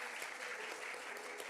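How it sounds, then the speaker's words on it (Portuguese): A church congregation claps together in a steady, dense burst of applause for a father and mother during a sermon, loud and sustained with no voices over it. "Vamos dar um aplauso a esse pai e mãe."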